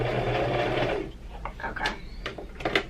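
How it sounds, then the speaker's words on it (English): A home sewing machine stitches and then backstitches fabric for a ferret hammock, a steady whirring motor run for about a second that breaks into short bursts and clicks as it reverses. "now I'm at the point where I'm going to backstitch. I'm going to push the button, back a couple, and oops, and back."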